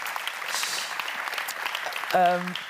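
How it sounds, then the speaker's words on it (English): An audience at a feminist climate finance event applauds, with steady clapping running throughout beneath a voice and a brief tonal sound near the end. "Also, a very loud applause for you as well."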